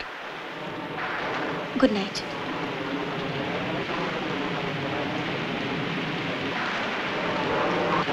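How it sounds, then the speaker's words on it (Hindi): Heavy rain pours outside, giving a steady, even hiss throughout while someone speaks briefly indoors. "बाहर तो जोरों की बारिश हो रही है"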